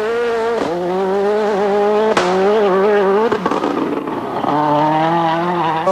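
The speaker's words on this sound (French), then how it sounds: "Didier Auriol fait ses premiers tours de roue en course avec la Skoda Fabia" A Skoda Fabia rally car races at the 2003 Rally Australia. Its engine roars loud and close, revving hard, with brief dips at each gear change and a steady howl between them.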